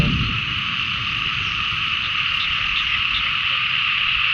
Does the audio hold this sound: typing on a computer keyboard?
no